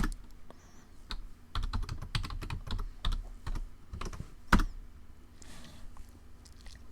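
A command is typed on a computer keyboard in a Linux shell, with irregular bursts of close, crisp key clicks and one heavier keystroke near the end, followed by quiet.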